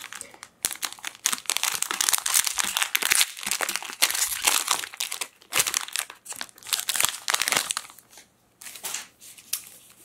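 Topps Allen and Ginter retail value packs are torn open and handled, giving close, continuous crinkling and rustling of foil wrappers in irregular bursts, with sharp tearing snaps and card shuffling.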